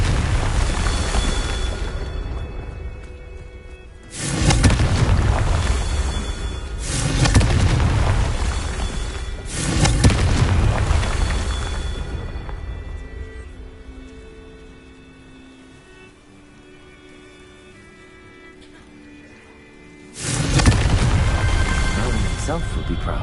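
Confringo spell explosions in Hogwarts Legacy, several loud booming blasts in separate bursts, each rumbling and then fading, with quieter game ambience in the gaps between them.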